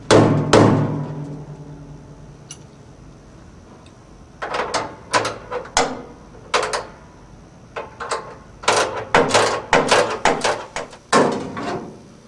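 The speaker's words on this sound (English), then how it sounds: "tap it periodically with a rubber hammer" A rubber hammer taps the shell band of an 18-60 lb commercial washer as the band is tightened, giving sharp, isolated knocks at first, then irregular clusters of quick taps with short pauses between them.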